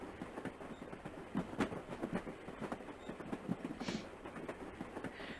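A moving train in the Battle Angel Alita video game rolls along with a steady, quiet clickety-clack of wheels on track, rhythmic clanks repeating over a low rumble, with no voices.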